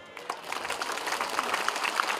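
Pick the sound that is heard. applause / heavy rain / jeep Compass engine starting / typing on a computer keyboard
applause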